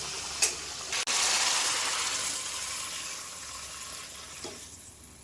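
Rohu fish cooked in a mustard curry is poured from the pan into a serving dish, giving a broad wet gushing sound that runs steadily for several seconds after a couple of sharp clinks, fading slightly toward the end.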